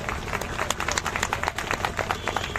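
An audience applauds in honour of soldiers, a dense and loud patter of many hands clapping steadily for a couple of seconds.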